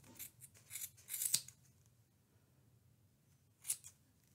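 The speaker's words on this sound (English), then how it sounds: "I'm going to take my scissors and I'm going to come through the loop part of the top" Scissors snip through the yarn loops of a handmade pompom in a few quick cuts up close, followed by a pause and one more snip in a quiet room.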